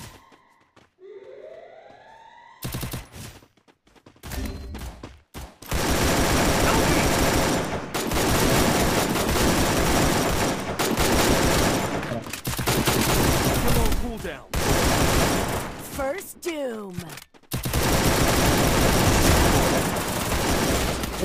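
Heavy gunfire in the video game Free Fire MAX, continuous loud bursts and rattling shots filling most of the stretch after a quieter opening, with a siren-like wail and a voice talking over it.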